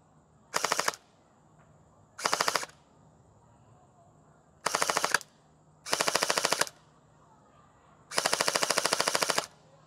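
A gel blaster fires five bursts through an ACETECH AC6000 chronograph, each a short, sharp, rapid rattle of shots. Quiet gaps separate the bursts, and the last burst runs longest.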